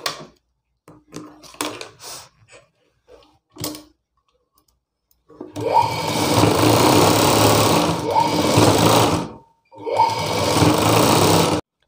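A sewing machine stitches a blouse piece in two long, steady runs of close whirring, preceded by light clicks and handling sounds.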